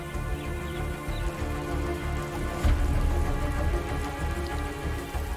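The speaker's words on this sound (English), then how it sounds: "Over the next 4 months, parts of the lowlands will receive nearly 200 centimeters of rain." Heavy monsoon rain pours steadily over the lowland plains of Sri Lanka, a dense continuous hiss of drops drumming on surfaces, close and even throughout with a brief low swell midway.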